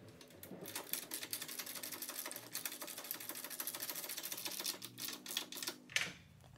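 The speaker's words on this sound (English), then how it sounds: "So I did go get a socket and we will just basically get that tightened on there." A ratchet wrench with a 13 mm socket tightens a nut during table saw assembly, giving a rapid, continuous run of close mechanical clicks for several seconds before stopping.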